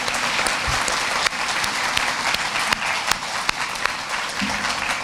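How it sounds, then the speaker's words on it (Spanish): A congress audience gives a big, sustained round of applause, dense and loud clapping filling the hall steadily from start to finish. "un gigantesco aplauso por Claudio Tabar."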